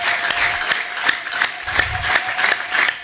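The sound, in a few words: audience applause in church service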